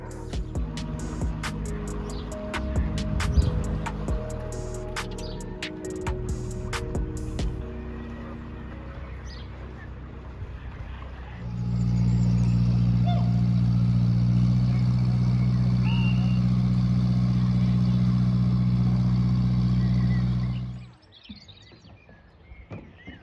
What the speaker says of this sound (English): look at the size of that engine